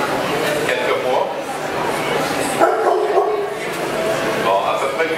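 Lucky, a dog at the Salon Info Canin canine show at Place Laurier, yips, barks and whimpers amid constant crowd chatter while a person talks nearby.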